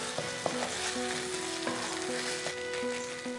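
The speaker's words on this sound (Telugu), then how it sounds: "ఆ పచ్చి స్మెల్ పోయే వరకు మనం దాన్ని ఫ్రై చేయాలి బాగా" Corn paste fries in a hot pan with a steady, close sizzle, broken by light clinks and scrapes as it is stirred, with no talking.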